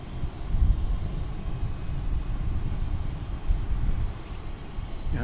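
An American Airlines Boeing 737-800 arriving at DFW Airport gives a steady, fairly loud engine roar that swells and eases slightly over a few seconds, with no voices.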